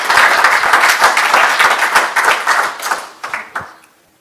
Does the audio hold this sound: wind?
no